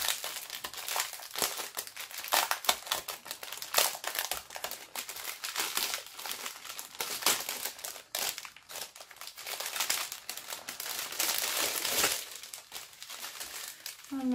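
A plastic bag of diamond painting drills is opened up close: continuous crinkling and rustling in uneven bursts throughout.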